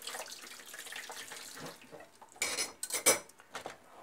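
A blind woman washing dishes at a sink: running tap water hisses while cutlery and dishes clink and clatter in uneven bursts, closest and sharpest toward the end.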